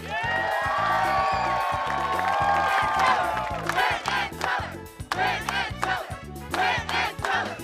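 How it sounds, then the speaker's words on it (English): A live studio audience at a magic show cheers, screams and whoops loudly, with dense clapping building into sustained, roaring applause that stays close and full throughout. "you are applauding like you've never applauded before"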